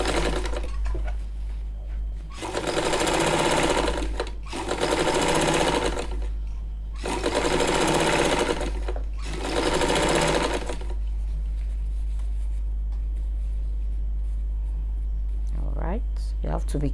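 A sewing machine stitching a wearable turban cap runs in four loud bursts of rapid whirring, each about two seconds long, separated by short pauses, followed by a steady low hum.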